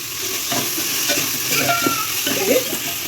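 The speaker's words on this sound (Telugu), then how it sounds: "ఇది కొంచెం ఫ్రై అవ్వాలి" Food fries in a pan with a continuous crackling sizzle, punctuated by the scrape and clatter of stirring, moderately close and with no voices.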